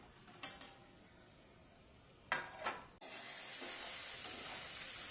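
Potatoes and broad beans frying with spices: a few clinks of a utensil against the pan, then a sudden loud, steady sizzle that continues to the end.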